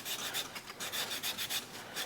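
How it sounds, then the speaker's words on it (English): 220-grit sandpaper rubs back and forth over wood in quick, rhythmic rasping strokes, close and fairly quiet, with no talking. "you just start sanding down those rough parts"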